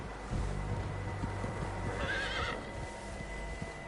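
In a cowboy video game, a horse whinnies loudly partway through, rising and falling over a low rumble of hoofbeats and ambient background noise.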